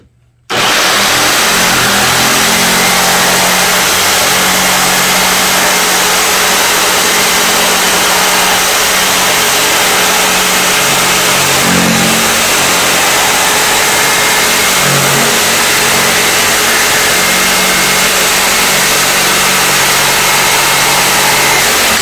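A jigsaw cuts through wood with a loud, continuous buzzing roar that starts abruptly and runs unbroken for over twenty seconds, close to the listener.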